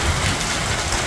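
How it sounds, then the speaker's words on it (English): Hail falls outside on a sunny day, a dense, steady hiss of pellets striking surfaces, loud and close for a brief moment with no voices. "It's hailing, but it's like sunny outside."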